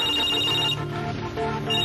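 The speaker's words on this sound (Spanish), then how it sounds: "Si vuelve a sonar el teléfono, ¡que nadie lo coja!" An electronic telephone ringtone chimes steadily and loudly for about two seconds, a repeating tonal pattern with a brief dip midway, in an indoor setting with no talking.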